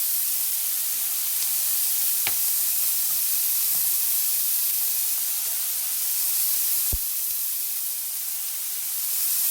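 Sliced ginger hits hot oil in a pan for tofu tikka masala, giving a loud, steady close-up sizzle and hiss throughout with a couple of sharp spatula clicks and no talking.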